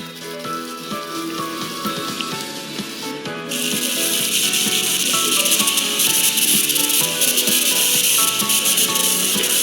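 Ginger, cumin and onion paste hitting hot oil and being stirred for a Bengali prawn fritter curry: a quieter stir gives way to a sudden loud, continuous sizzle and hiss, close and steady.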